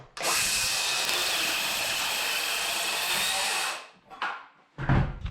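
A power tool cutting through a piece of plywood flooring during a kitchen renovation, one loud close whining cut lasting several seconds, then stopping, followed by brief clunks and shuffling.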